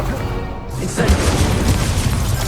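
An Incendio fire spell bursts in Hogwarts Legacy, a loud rumbling boom that swells after a brief lull and rolls on with crackling combat noise.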